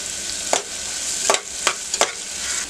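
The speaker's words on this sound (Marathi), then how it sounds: "कांदा चांगला परतून घेऊया." Onion sautés in two spoons of oil with curry leaves, a continuous sizzle broken by three or four sharp spoon scrapes against the pan, close and alone.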